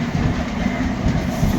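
A Chennai local train rolls past close by on the rails, a continuous heavy rumble with rhythmic clatter from the wheels.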